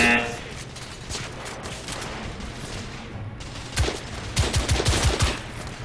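Gunfire from the video game The Order 1886, a stretch of scattered shots under game noise that builds into a louder burst of rapid, closely spaced cracks near the end.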